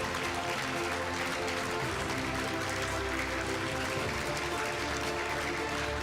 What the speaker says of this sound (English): let's give Lim Jun An another big round of applause